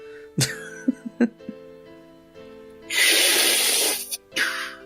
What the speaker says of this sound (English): Oh, my gross coughing right now